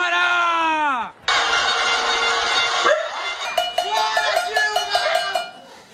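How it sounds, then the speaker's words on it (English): People bang pots in a street protest, a rapid series of bright metallic clanks following a sustained, shrill tone and a sudden loud burst of noise. "Her critics had organized a kind of pot-banging protest"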